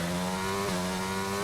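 Formula 1 race car engines revving at the race start at Spa in a racing video game: a steady, high droning whine of engines held at revs, loud and continuous, with no voices.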